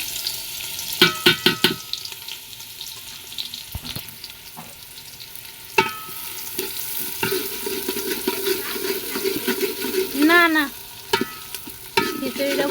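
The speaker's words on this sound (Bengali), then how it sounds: "পেঁয়াজটা আমি হালকা ভাজবো বেশি কড়া করে ভাজবো না" Chopped onion frying in hot oil with whole spices such as bay leaf, dried red chilli, cumin and whole garam masala, a steady close sizzle with stirring clatters and scrapes through the pan, before a khichuri and meat dish.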